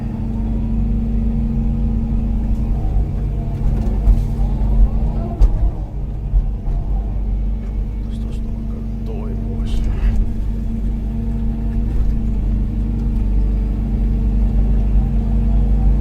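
An excavator engine runs steadily in a forest during wood harvesting, a loud, close, low droning hum that holds constant throughout with faint creaks and knocks over it.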